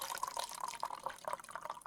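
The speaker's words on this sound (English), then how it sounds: "You want one last water ASMR?" A small amount of water drips and trickles close to a microphone for ASMR, producing a steady stream of crisp, irregular droplet splashes.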